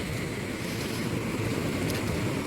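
Heavy water rushes over the Iranaimadu reservoir spillway in light rain, a steady, dense roar that fills the whole stretch without a break, loud and close, with no voices.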